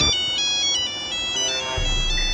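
A mobile phone ringtone rings from a pocket during a comedy skit, a steady melodic tone pattern playing continuously and fairly loud, with a low rumble joining near the end.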